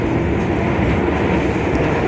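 A new-generation stainless steel Jaka Tingkir passenger train rumbles along in a dense, continuous roar heard from inside the carriage, loud and steady throughout.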